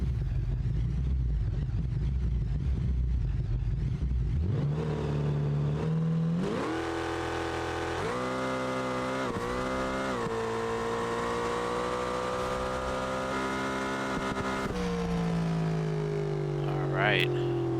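Drag launch in BeamNG of a car tuned to 4,300 horsepower: after an idle rumble, the engine flares up and screams through rising, stepped gear shifts, loud and close, with a voice talking underneath.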